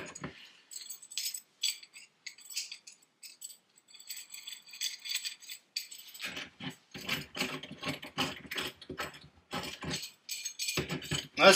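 Clamp on a leather-stitching pony being tightened, giving quick ratcheting, rattling mechanical clicks in bursts that grow denser and louder after a brief pause, close and alone.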